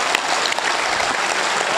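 An audience at a Hindi poetry recital by Dr. Hariom Pawar applauds, dense continuous clapping from a crowd, fairly loud and steady for the whole moment.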